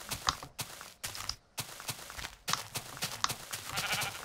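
Sheep bleating in the Minecraft video game, with several short bleats spaced irregularly among soft footstep-like taps, fairly close and moderately loud, no talking.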